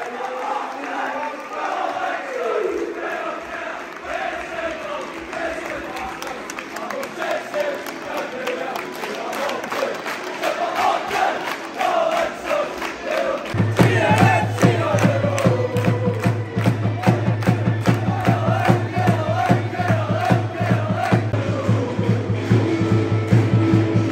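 Football fans of Partick Thistle and Greenock Morton roar in a stadium, a continuous crowd din that swells markedly halfway through into louder cheering, chanting and clapping, filling the space without pause.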